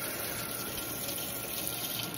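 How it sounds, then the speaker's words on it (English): Tap water runs steadily from a faucet to refill a spray bottle, giving a continuous close, even rushing hiss with no pauses and no voices. "I'm refilling it with this from this faucet"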